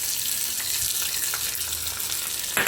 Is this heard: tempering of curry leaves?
yes